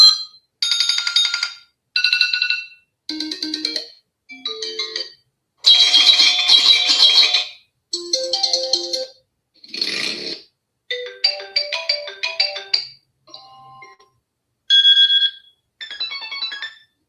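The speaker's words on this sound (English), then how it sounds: "Here's another ringtone." A mobile phone ringtone plays loud and close as a melodic electronic tune made of a dozen or so separate bright notes and short phrases, each separated by brief silences.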